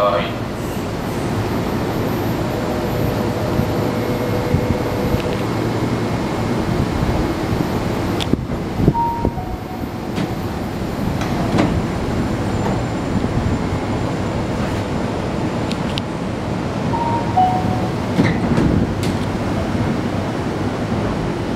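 Tobu 50070 series ten-car train on the Tokyu Toyoko Line express departing Kikuna station, a continuous rumbling roar of wheels and motors with brief higher tones, loud and close throughout.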